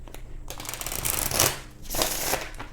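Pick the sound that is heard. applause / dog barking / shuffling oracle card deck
shuffling oracle card deck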